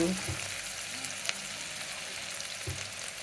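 Turmeric frying in a pan for a lamb trotter curry gives a soft, steady close sizzle with a couple of faint clicks, brief and fairly quiet.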